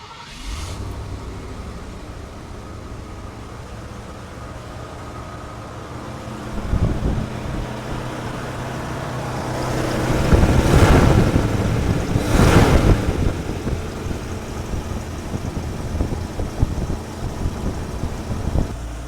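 Carbureted engine of a first-generation Ford Bronco idles with a steady low rumble, then revs a couple of times in loud swelling bursts before settling, with wind buffeting the microphone and no talking.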